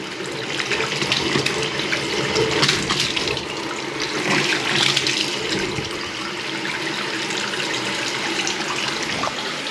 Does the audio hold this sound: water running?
yes